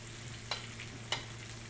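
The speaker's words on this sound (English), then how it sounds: "we're just gonna fry up those plantains" Quiet, steady sizzling of plantains frying in oil, with two brief scraping stirs breaking through the hiss.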